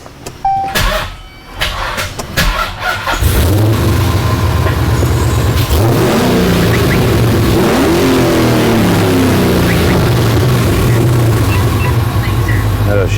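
Modified Dodge Challenger V8, tuned to roughly 700–800 horsepower, idles loud and close, then climbs into rising and falling revs; a voice speaks briefly over the startup.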